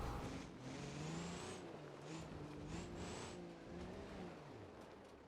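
Van engine revving in BeamNG.drive while crawling over desert hills in Johnson Valley, a strained, fluctuating engine note with short surges, faint and distant-sounding, no voices.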